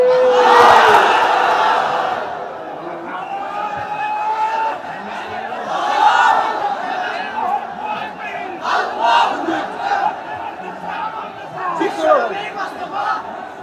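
A large crowd at an outdoor Islamic sermon gathering shouts a takbir chant in response, a loud, massed roar of voices that swells at the start and rises again in repeated waves of shouting.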